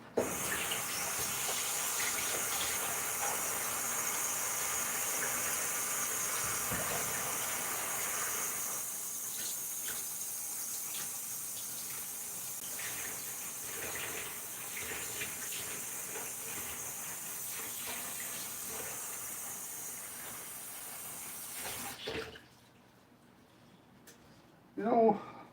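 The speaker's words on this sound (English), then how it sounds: "I put some hot water and wash this here because it had the ish on it." Hot tap water runs steadily into a kitchen sink while cookware is rinsed, a continuous hiss that lasts about twenty seconds and then cuts off, followed by a short clatter near the end.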